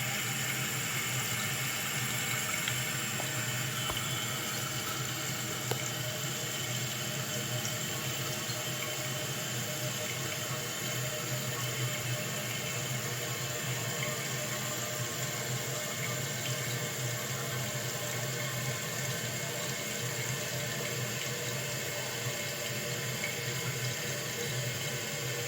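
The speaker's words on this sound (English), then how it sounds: "So you can see it's filling up the bowl here." Toilet bowl refilling after a fill valve replacement, a steady, continuous rush of running water close by that holds level for the whole stretch, with no voices.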